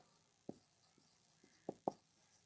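Several short, distinct strokes of chalk or marker writing on a classroom board, close and crisp, with two quick marks near the end and quiet between them.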